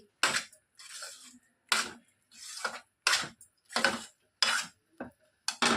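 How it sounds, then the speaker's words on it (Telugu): Rice and jaggery stirred in a pot as the jaggery melts, a spoon scraping and knocking against the pot in a steady rhythm of about nine strokes, close and clear with no talk. "చిన్నగా బెల్లం కరిగే వరకు బాగా కలుపుతూనే ఉండాలండి."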